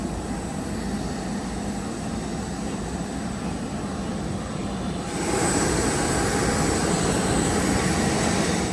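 Loud, continuous jet engine roar from an EasyJet airliner on an airport apron, heard nearby and growing slightly louder and brighter partway through.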